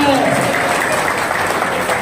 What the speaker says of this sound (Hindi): ताली बजाओ, फांस देना।